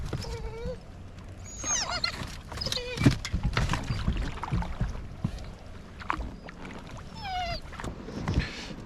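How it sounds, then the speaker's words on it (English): Oars of a Stryker boat dip and pull through water in a steady rhythm while gliding in toward shore on a wild camping trip, with splashes and faint bird calls around. "so we're just going to row the rest of the way in"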